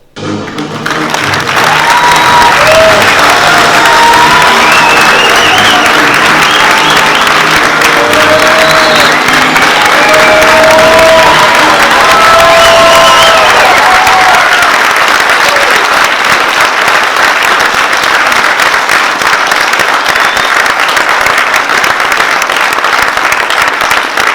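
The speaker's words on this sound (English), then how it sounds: "please feel free to clap, scream, cheer and holler" A large crowd claps, cheers and whistles at a Royal Marines passing out ceremony, loud and sustained from the start, with shouts rising over continuous applause.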